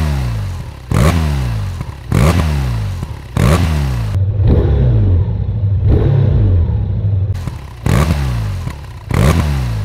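A 2024 BMW R 12 NineT boxer engine is revved at standstill in a series of sharp, loud throttle blips with falling tails, then one longer sustained rev before the short blips resume close by.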